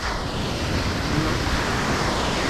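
Sea waves wash steadily around a small fishing boat off Imuki Island in La Union, Philippines, a dense continuous surf roar with some wind buffeting the microphone and no talking.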